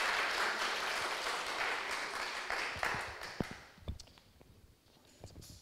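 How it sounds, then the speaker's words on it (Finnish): An audience in a church claps loudly for about three seconds, then the applause thins into a few scattered claps and faint footsteps before fading toward quiet. "Niin annetaan kaikki itsellemme aplodit"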